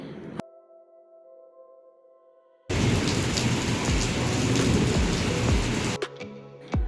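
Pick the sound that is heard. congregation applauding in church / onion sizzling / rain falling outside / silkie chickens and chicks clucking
rain falling outside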